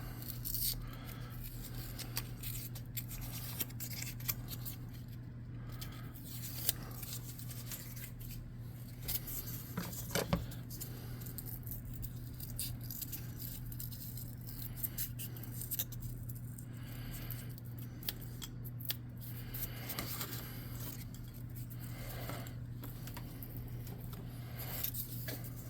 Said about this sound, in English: And let's cut another rough circle out.